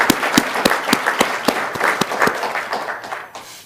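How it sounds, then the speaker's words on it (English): Audience applause at a plenary meeting: a small group clapping with distinct, fairly sparse claps that build briefly and then taper off toward the end, close and moderately loud with no talking over it. "I just want to take a moment to give her a round of applause for all of her efforts."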